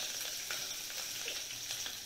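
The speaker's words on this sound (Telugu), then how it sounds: "ఉల్లిపాయలు ఆనియన్స్ ని వేసేసింది తాలింపులో" Onions and green chillies frying in a tempering of oil with cumin and dried red chillies, a steady dense sizzle with faint stirring scrapes.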